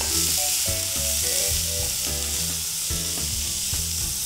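Onions frying in oil for egg bhurji: a loud, steady, close sizzle throughout, with rhythmic clinks and scrapes of stirring on top, no voices.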